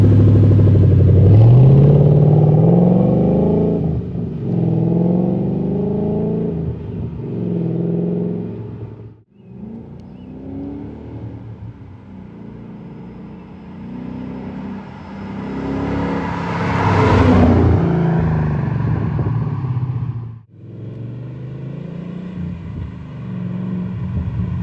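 Outside a 2013 Ford Mustang GT Premium, the V8 engine and exhaust rumble loudly and close by, with repeated rising revs, brief cutoffs and a deep burbling idle between pulls.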